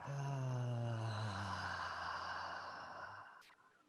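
A group of people exhaling together after a deep breath, one long, soft, breathy sigh that fades out over a few seconds, with a brief click at the end.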